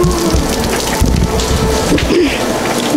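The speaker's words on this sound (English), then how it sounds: "so it's raining out here" Steady heavy rain pours down, with a low rumble of thunder rolling beneath the hiss.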